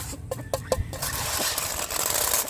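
Pet chickens cluck while being fed unhulled rice grain (palay), their calls scattered and moderately close over a steady, noisy rustling background, with no speech.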